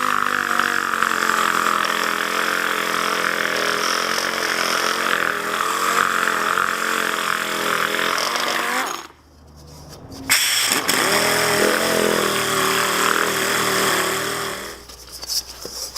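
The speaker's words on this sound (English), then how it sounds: "here's my DA with 80 grit sandpaper on it" A dual-action sander fitted with 80 grit sandpaper grinds across a metal panel during basic metal finishing, a steady loud whirring drone that cuts out briefly near the middle and then resumes.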